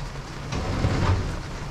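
Steady rain falls on a sailboat riding at anchor in cold, wet weather, a soft even hiss with a slight swell partway through, no voices.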